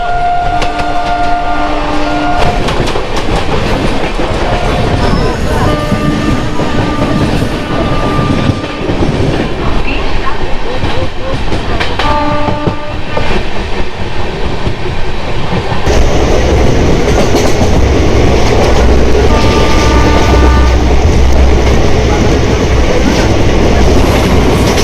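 A passenger train runs from Howrah to Jasidih, heard from on board as a loud, continuous rail rumble with rhythmic wheel clatter and brief tonal hoots.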